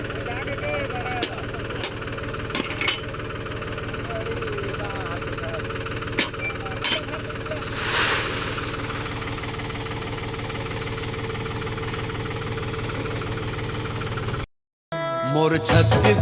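A tractor engine running steadily with a rough, knocking chug, loud and continuous throughout, with a few sharp clanks and a brief dropout near the end.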